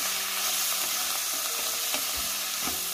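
Square-cut broccoli and red, yellow and green bell peppers stir-fry in a pan over a high gas flame, giving a loud continuous sizzle with scraping stirs throughout.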